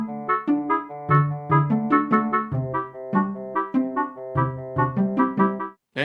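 Zelda game music drenched in added reverb: a bright synthesized melody of plucked, chime-like notes over a bass line, moving at a steady, lilting pace with soft, washy tails and no voices.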